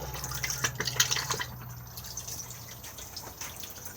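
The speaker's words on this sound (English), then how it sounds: "push to flush just here" Cassette toilet flushing inside a Swift Challenger 635 Lux caravan: a short burst of rushing, trickling water up front, then a fading drip and gurgle over a low steady hum.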